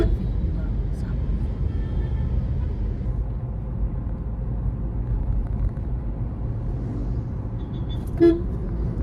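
Weekday city road traffic in Coimbatore, India, a steady dense rumble of engines and tyres with scattered horn toots, one sharper honk standing out near the end.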